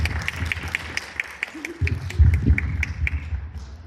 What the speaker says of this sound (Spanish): Le damos fuertes palmas